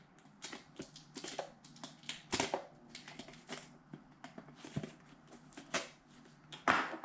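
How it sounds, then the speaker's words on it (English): Plastic wrap on a Nonda ZUS smart dash cam box is sliced open with a blade, giving a run of irregular crinkles, scrapes and sharp clicks at close range, with short pauses between cuts and no talking. "we're gonna get into this box, this little plastic wrap. I'm gonna cut that open."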